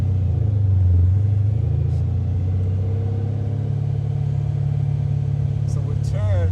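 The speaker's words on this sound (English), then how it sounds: "Man, it's all engine." A 1980 Chevy Camaro Z28 restomod with gear drive, its naturally aspirated engine rumbling steadily and loud from inside the car while driving, with a short voice near the end.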